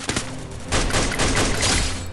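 Rapid automatic gunfire in the Free Fire video game, a close, loud fusillade of quick shots that intensifies into a sustained burst.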